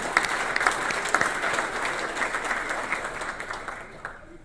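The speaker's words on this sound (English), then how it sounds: "More applause" A room full of attendees at the Vistage Executive Summit in San Jose applauds the team, a continuous crowd clapping with some sharper individual claps near the front that tapers off toward the end.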